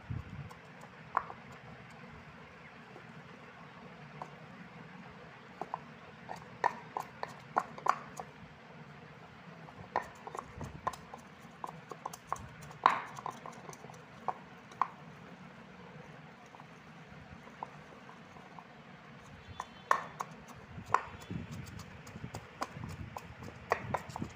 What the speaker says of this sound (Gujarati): અને હવે આપણે આને વ્યવસ્થિત ખાંડી લેશું